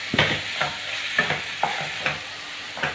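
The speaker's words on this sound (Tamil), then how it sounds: "நம்ம அந்த பன்னீர் வேகிற வரைக்கும் நல்லா வதக்கி விட்டுக்கலாம்" Paneer and masala sautéed in a pan, with steady frying sizzle and regular spatula scrapes and stirs repeating about every half second, close and prominent, no speech.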